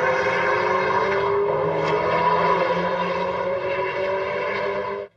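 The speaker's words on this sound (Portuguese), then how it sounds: "Cara, é muito carro chegando." Cars in an illegal night street race revving hard, a loud, sustained engine drone with strong tones that holds for several seconds and then cuts off suddenly.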